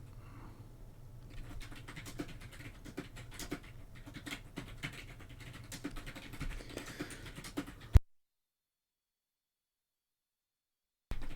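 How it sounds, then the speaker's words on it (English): Steady computer-keyboard typing carries on in the background while someone draws, a dense run of soft clicks lasting about eight seconds before the sound cuts out into silence. "Sorry about all the typing in the background."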